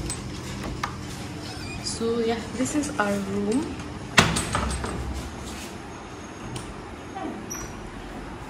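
A hotel room's double door, room 303 on the third floor of a Sri Mayapur guesthouse, creaks and opens with a sharp knock or latch clack midway, while a person talks over the handling noise.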